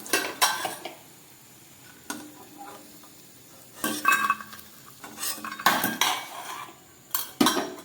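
Fried lentil dumplings (bori) are lifted out of hot mustard oil in a pan, with sharp metal clatters and scrapes of a utensil in irregular bursts over a soft sizzle.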